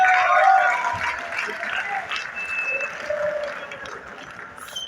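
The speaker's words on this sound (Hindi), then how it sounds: "जनाब इनाम खान आपकी भरपूर तालियों में स्टेज पर तशरीफ़ लाएं।" Audience in an art council hall in Sargodha claps for a stage drama, a dense burst of applause that is loudest at first and then gradually thins and fades.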